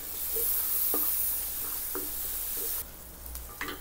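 Garlic and onion frying in margarine for fried rice, a bright steady sizzle with a few soft stirring taps, dropping quieter toward the end.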